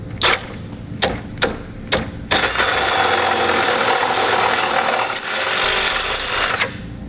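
Hand ratchet driving bolts with a 13mm socket on a Blue Ox base plate install on a 2012 Honda CR-V, several separate clicks and then a long, fast, continuous ratcheting run, close and loud.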